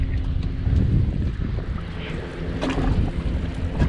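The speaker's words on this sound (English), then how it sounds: "Wind is a rockin'." Strong wind roaring across open water while fishing for catfish from a boat on a river, a continuous close buffeting rush with faint knocks and no talking.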